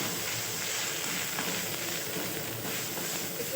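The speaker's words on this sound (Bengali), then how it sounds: "মশলাটা একটু ভালো করে ভেজে নেবো।" Spice paste fries in a pan for a Bengali potol chingri curry with turmeric and Kashmiri chilli, a faint, even sizzle and hiss that holds steady throughout with no voices.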